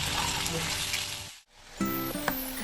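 Spice paste sizzling and frying in hot oil with browned onions for a Bengali small-fish curry, a steady close hiss broken by a brief pause, then stirring clatter resuming over the sizzle.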